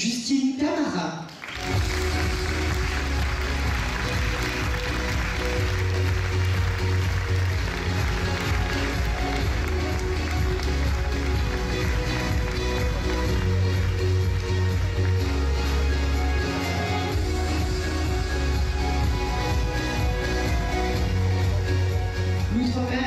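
Audience applause for a contestant at a regional beauty pageant, the Miss Poitou-Charentes election, sustained and dense throughout, filling the hall with a steady crackling clatter of many hands, loud and continuous.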